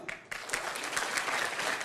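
Applause from an audience at a business seminar, greeting an honoured consultant: a dense wash of clapping that briefly dips and then swells back, continuous for under two seconds.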